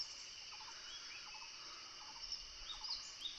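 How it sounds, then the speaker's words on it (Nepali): Various birds and insects calling at sunrise away from a village, a faint steady insect whine with repeated short bird calls at a distance, no voices. "पृष्ठभूमिमा सुनिएका विभिन्न चरा, कीट पतङ्गहरूको आवाज मात्रै छ।"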